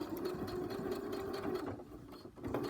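A sewing machine stitching a zip through several layers of fabric, a steady, fairly faint mechanical whir and rattle running continuously for a few seconds without talk.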